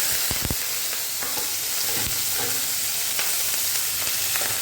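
Cumin seeds, onion, tomato and curry leaves fry in hot oil with a steady close sizzle, a few sharp clicks of stirring breaking through early on.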